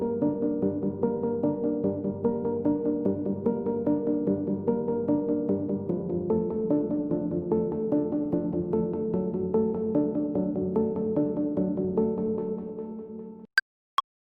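Moog Minitaur synth line run through delay and reverb, doubled an octave up and panned slightly left and right, playing a steady sustained pattern for about thirteen seconds before cutting off, followed by two sharp clicks.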